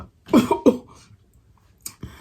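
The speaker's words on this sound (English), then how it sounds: "I think I was trying to burp, but I ended up coughing" A couple of sharp, close coughs in quick succession, followed by a brief pause and two smaller throaty bursts.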